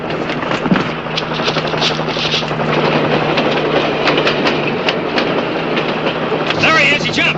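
A passing train rolls by with a loud, steady rumble and repeated clickety-clack of railroad cars over the rails, heard up close and continuous throughout, with a brief louder swell near the end.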